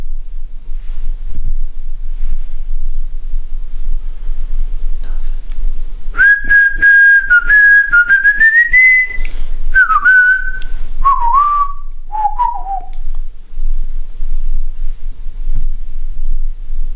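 A person whistles a short wavering tune, sliding and stepping downward in brief phrases, clear over a low constant hum during a night paranormal investigation in an old hall.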